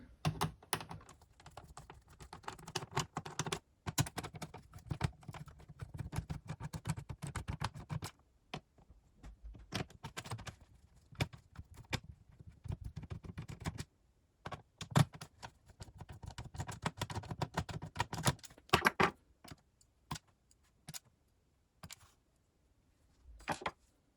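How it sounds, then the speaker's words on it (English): Small screws are worked out of the casing of a Toshiba 4000CDT laptop, giving irregular close clicks, ticks and scraping taps in scattered bursts with short silent gaps. "I've got 4 more screws to remove from the top."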